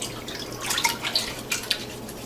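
Cold tap water pours into a bowl in a kitchen, a brief bright splashing trickle with scattered droplet ticks over a soft steady hiss.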